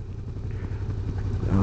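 A Suzuki SV650S motorcycle rides through city streets, its engine giving a steady, close, low rumble that grows slightly louder toward the end.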